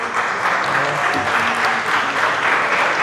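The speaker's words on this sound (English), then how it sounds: "gets the appropriate applause for that one" A live-show audience in Philadelphia applauds steadily, a dense wash of clapping that holds at an even level for the whole few seconds.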